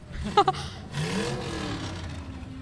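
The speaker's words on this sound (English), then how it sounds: "That truck is loud" At a Christmas parade in Joplin, a loud truck engine mounted on a trailer roars steadily close by for a couple of seconds, following a couple of brief sharp bursts at the start.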